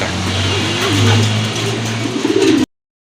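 A pigeon at a large pigeon farm coos close by in repeated low rolling calls over about two and a half seconds, under faint background noise.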